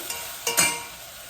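Onions and green chillies stir-fried in a pan, with a couple of quick scraping stirs and a brief sizzle that swells and fades over about a second, close and fairly faint, no voices.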